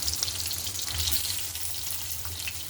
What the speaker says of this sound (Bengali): ভালো মতো একটু লাল লাল করে আলুটাও ভেজে নেব।